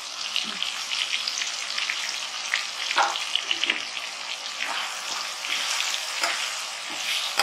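Sambal being stir-fried with lime leaves and bay leaves for a spicy tuna dish, a loud continuous sizzle broken by scraping stirs, close up with no voices.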